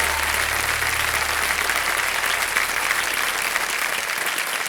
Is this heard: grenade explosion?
no